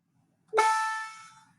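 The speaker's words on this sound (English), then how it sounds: "if I play the shortest bar on this instrument, here's what it sounds like" The shortest bar of a percussion instrument is struck, a single bright tone ringing out with a sharp attack and fading over about a second, alone in silence.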